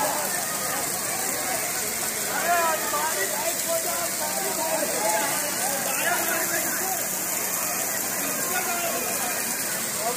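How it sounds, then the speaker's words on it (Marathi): Rain falling steadily at a small resort with coconut palms and other trees, a continuous even hiss of drops on surfaces throughout, with faint voices under it. "पाऊस पडतो आहे बघा"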